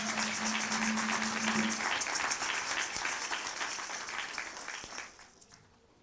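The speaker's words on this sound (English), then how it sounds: "Let's give him a big applause." An audience claps at an elementary school open house, giving sustained, even applause that slowly thins out and ends in a few scattered claps.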